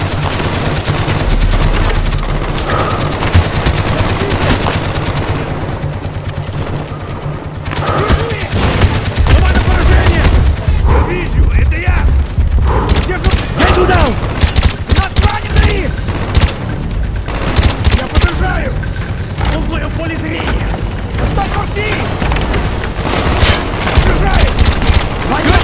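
Sustained machine gun fire in Call of Duty: Black Ops, loud and near, rattling continuously with heavy booms mixed in, and shouted voices under the shooting.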